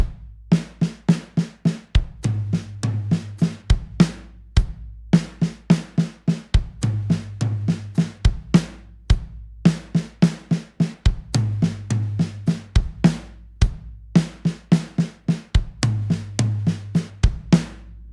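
A Travis Barker-style drum fill with quiet ghost notes on the snare between sharp accented hits, played close and clear in a fast, busy, repeating pattern with low kick thumps underneath and no talk.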